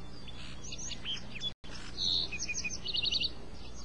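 Sparrows chirp in short bright bursts, a quick run of rapid repeated notes toward the end, fairly close and clear with a brief dropout partway through.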